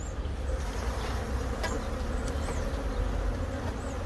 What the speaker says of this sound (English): Nice bees here.